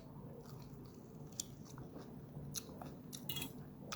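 Someone chews raw cucumber, with a few crisp, close crunches scattered over a quiet, murmuring background and no talking.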